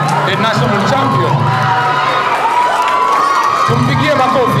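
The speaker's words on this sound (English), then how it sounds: "let us clap for her. Let us clap for her as she comes." At a national chess finals awards ceremony, a crowd of schoolchildren cheers and shouts loudly and continuously for the champion, with voices throughout.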